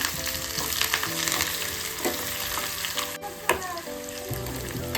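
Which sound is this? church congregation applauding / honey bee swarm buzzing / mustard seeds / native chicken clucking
mustard seeds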